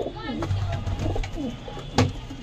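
Fancy pet pigeons coo and flutter close by in a loft, soft throaty calls overlapping with someone talking over them.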